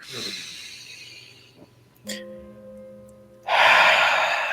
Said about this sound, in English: So take a deep breath in through your nose.